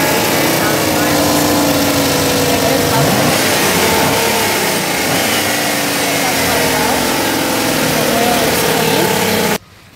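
A 2013 Chevy Express 2500 van with a 4.8 liter engine idles loudly and steadily up close, a continuous mid-pitched rumble with slight wavering, cutting off abruptly near the end.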